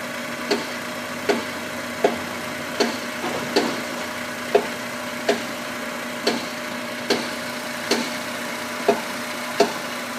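A 2000 Honda Civic with a 1.6 engine idles steadily nearby, a constant hum marked by regular ticking clicks roughly every second, with no voices.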